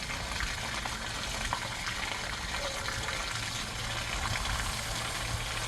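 Steady running water rinsing a K&N intake air filter, a continuous broadband splashing hiss that stays even and close throughout, with no voices.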